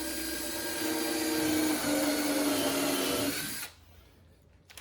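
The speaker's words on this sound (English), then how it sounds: "And I will countersink these" A drill countersinks holes in a wooden patio chair, a close, steady whining drone that runs for about three and a half seconds and then cuts off into near silence.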